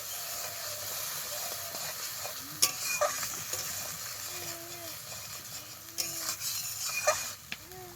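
Masala being stirred and fried in a pan for Bengali mustard hilsa, a steady close sizzle with scraping stir strokes and a few sharper clinks of the spoon against the pan.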